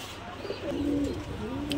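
Pigeons cooing at a market stall where breeding pairs are sold with eggs, including Chila, Gorra and racer breeds; a soft, low, rolling coo repeats close by across the short stretch.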